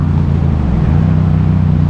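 Yamaha MT-07 (2017) with a full Scorpion exhaust being ridden, a loud, steady deep engine rumble with a dense low throb running continuously, close and alone without voices.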